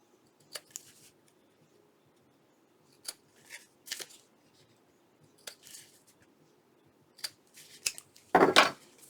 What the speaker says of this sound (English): We'll just give them a little snip.